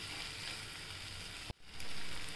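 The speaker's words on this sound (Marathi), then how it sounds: "छान परतून घेऊया त्याला 2 मिनटं" Spinach sautés in a pan for garlic spinach bhaji, a steady close sizzle with a brief dip as it is stirred, then frying resumes.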